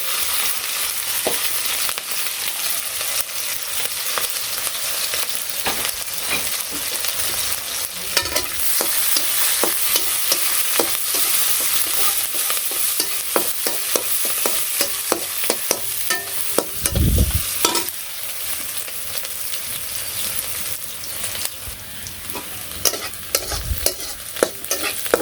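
Chopped onion and green chilies frying in a village kitchen pan while being stirred, a continuous crackling sizzle overlaid with repeated scraping strokes of the spoon, fairly close and with no voices.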